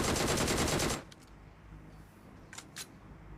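Gunfire in the mobile battle royale game PUBG Mobile: a loud, rapid automatic burst lasts about a second, followed by quieter game ambience and a couple of faint distant shots.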